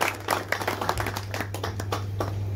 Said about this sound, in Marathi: तर जोरदार टाळ्या वाजवा आमच्या राखण साहेबांचं